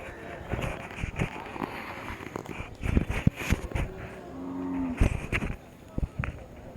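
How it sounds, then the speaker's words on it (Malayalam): Cattle moo over the busy clatter and murmur of a crowded outdoor market, with voices talking nearby and scattered knocks and footsteps. "അത്യാവശ്യം നല്ല കന്നുകളുണ്ട്"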